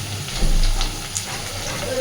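Potatoes frying in a pan: a steady, moderate sizzling hiss over a low hum, with a slight swell partway through and no break in the frying.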